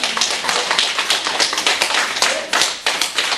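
An audience at a Buddhist sutra lecture claps loudly and close, a rapid stream of distinct sharp claps with a few stronger accents and no talking.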